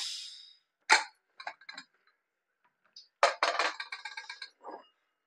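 A pressure cooker lid is worked open after the cooker has whistled four times, giving sharp metallic clinks and clatters close by, with a quick run of rattling near the end.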